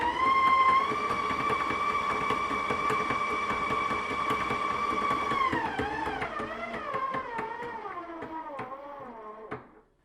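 An Ooni Halo Core spiral mixer runs with a steady, tonal mechanical whine and a slight flapping, close and moderate, then the pitch wavers and drops as it winds down and stops.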